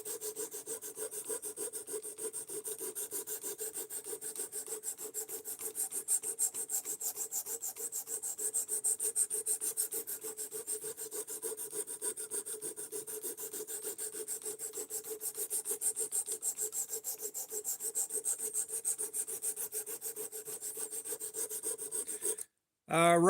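A knife blade is sanded by hand with 320 grit sandpaper: a continuous, close scraping rasp with steady back-and-forth strokes, running unbroken for over twenty seconds with no talking, then stopping abruptly near the end.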